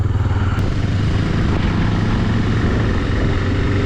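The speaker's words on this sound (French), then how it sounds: "Surtout ne pas se mettre tout de suite derrière Zouké quand il démarre" Vehicle engine pulling away on a gravel or dirt surface, a loud, steady rumble close by that holds for the whole stretch with no voices.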